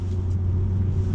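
A Jaguar XKR X150 cruises at very low revs, giving a steady, deep engine rumble that stays close and even for a brief stretch with no speech.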